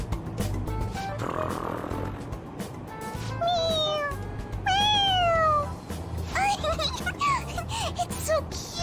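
Several bright meows from a toy cat pressed on the head ring out in quick succession over train rumble, with people talking and reacting around it.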